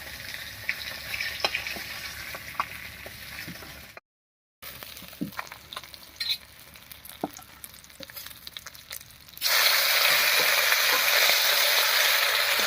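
Fish oil sizzles and crackles steadily in a pan after rohu fish pieces are fried, with scattered scraping stirs, a brief dropout, then a louder, denser frying hiss near the end.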